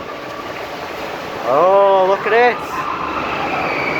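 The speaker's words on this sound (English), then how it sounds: "we're in mine train" A mine train ride over river rapids, with a loud rumbling wash of water and machinery throughout and a short burst of tonal squealing in the middle; people talk briefly.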